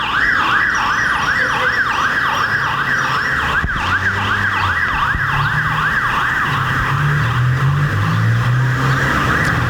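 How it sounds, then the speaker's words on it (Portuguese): A fire brigade ambulance siren wails loud and close in a fast rising and falling pattern, repeating steadily over passing traffic with no talk. "a ambulância já sai com a sirene ligada para chegar o mais rápido possível no lugar da ocorrência"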